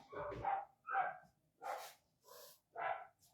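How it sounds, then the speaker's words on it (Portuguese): A dog barks five times in a slow, evenly spaced series, fairly close and sharp, with quiet gaps between each bark. "Tá um pouquinho de barulho aqui com cachorros"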